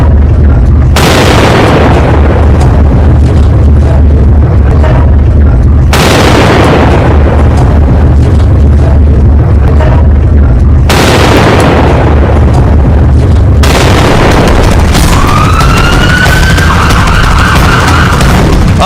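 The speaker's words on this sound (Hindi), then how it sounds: "पाकिस्तान में स्टेशन पर धमाका होता है" Explosions at a railway station in Pakistan in news footage, three heavy booming blasts each with a long rumbling decay, loud and distorted, the last one followed by a wailing siren-like tone.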